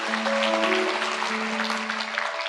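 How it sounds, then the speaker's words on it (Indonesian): A church congregation applauds during a sermon, a dense, even wash of clapping that holds steady, with faint sustained musical tones underneath. "Berikan tepuk tangan bagi Tuhan Yesus."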